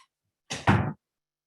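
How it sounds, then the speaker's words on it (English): A door is pushed shut after a dog opened it, giving a single brief close thud with a slight double impact, then silence. "Let me shut this door that my dog opened."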